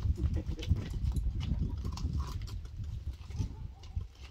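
Horse being hitched to a carriage, its hooves shuffling and stamping on hard ground in irregular, close clops, with low rustling and handling noises throughout.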